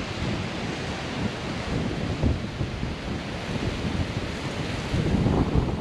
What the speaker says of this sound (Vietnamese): Ôi ơi gió thổi muốn ngã luôn.